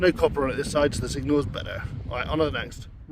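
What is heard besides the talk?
No everyday noise stands out behind the speech.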